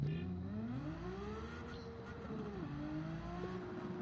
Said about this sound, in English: I'll roll race this car now.